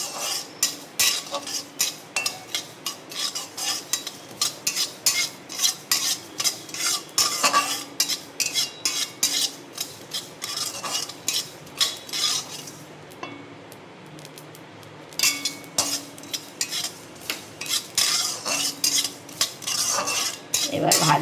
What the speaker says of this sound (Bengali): এবার এই পোস্ত আর এলাচটা ভেজে নেবো একসঙ্গে